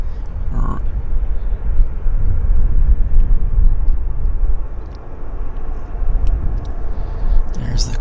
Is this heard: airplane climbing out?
yes